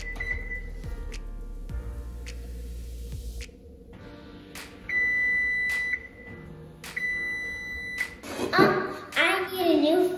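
A kitchen timer set for twelve minutes gives several short, sharp electronic beeps in a home kitchen, spaced apart and fairly loud, amid household clatter and a voice, ending in a jumble of clanking and talk.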